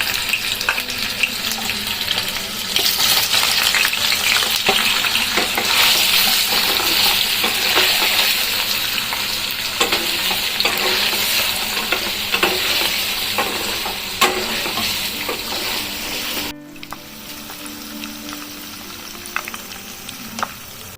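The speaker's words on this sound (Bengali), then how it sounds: "কড়াইয়ে সাদা তেল দিয়েছি, এবার পনিরগুলোকে ভেজে নেব।" Paneer frying in white oil in a wok, a steady close sizzle with scraping stirs throughout; it drops noticeably quieter near the end.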